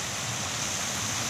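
A stream of water flows steadily and evenly, a continuous close rush and gurgle with no breaks and no voices.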